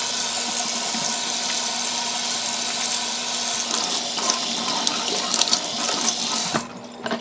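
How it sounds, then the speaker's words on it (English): Tap water runs steadily into a sink while hands are washed before cooking. The rush is constant and close, with faint splashes and shifts near the end and no speech. "First things first, wash your hands."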